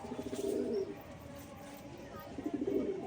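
Giribaz pigeons in a loft coo in low, throaty rolling bursts, a steady close chorus with a louder swell near the start and again at the end.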